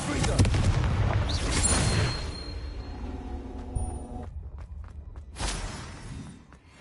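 A Confringo spell blast in the Hogwarts Legacy video game, heard as a burst of booming, crackling impacts that fades out, with a second short burst following.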